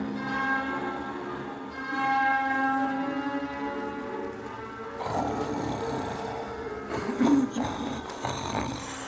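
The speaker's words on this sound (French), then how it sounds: "Un grotesque ce ronflement." A man snores loudly in a French radio drama adaptation of Balzac's L'Auberge rouge, long rasping drawn-out breaths with a deep rumble, joined later by a shifting ambient wash.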